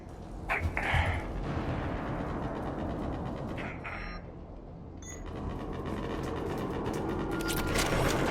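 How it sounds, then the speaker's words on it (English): Bursts of gunfire crackle amid a dense, rumbling Mass Effect 3 soundscape, with scattered sharp impacts and a constant low roar underneath. "I hear gunfire"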